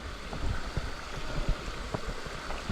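Water pours steadily down a small hidden waterfall at Pages Pinnacle, running at a reduced flow as a continuous rushing wash with faint irregular splashes, close by and heard alone.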